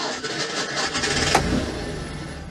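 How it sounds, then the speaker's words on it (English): The small twin-cylinder engine of an Autobianchi Bianchina van cranks and fires up noisily, then settles into a loud, rough, buzzing idle that fills the space close by. "the little twin cylinder engine fires very noisily into life"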